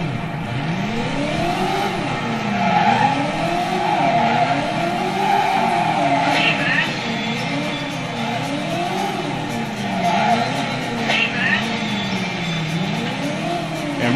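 Car tires squealing and skidding through repeated swerves in the Driver video game, a wavering screech over a steady engine drone, continuous and fairly loud.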